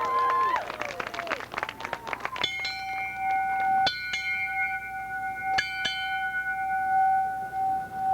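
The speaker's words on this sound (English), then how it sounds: "8 bells and all is not well." Bright metallic bell strikes ring out at a street theater performance on militarism and oppression, with a few sharp, sustained, resonant hits after a burst of crowd clapping and chatter, and each tone lingers and fades.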